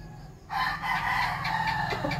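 A Kelso gamefowl rooster lets out a single loud, close crow that starts abruptly and holds for nearly two seconds over a low background hum.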